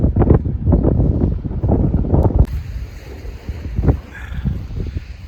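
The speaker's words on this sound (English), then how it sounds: "Listen to the waves." Ocean waves along a rocky Vancouver Island shore rumble and wash in uneven surges, up close and fairly loud, mixed with gusts of wind across the microphone.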